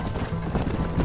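Horse hooves clip-clopping in the Red Dead Redemption video game, a quick steady rhythm of hoofbeats, fairly close and continuous through the short stretch.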